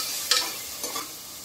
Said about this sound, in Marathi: याला आता एक 2-3 मिनटं हाय फ्लेमवरती जरा कांदा मी शिजायला ठेवते